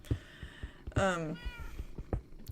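One loud, drawn-out meow from a cat in a video game set inside a mountain rises over soft, intermittent footstep-like thumps.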